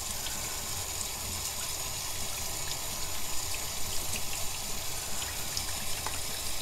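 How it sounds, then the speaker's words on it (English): Warm tap water runs steadily while a fabric face mask is rinsed beneath it, a continuous close splashing hiss with small shifting gurgles as the cloth moves. "Now let's get some warm water and rinse it."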